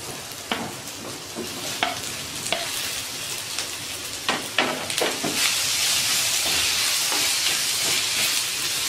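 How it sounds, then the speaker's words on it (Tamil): Onions and tomatoes sautéing in a pan: a steady sizzle and hiss with scattered spatter pops and stirring scrapes, loud and close throughout. "தக்காளி நல்லா வதங்கணும்."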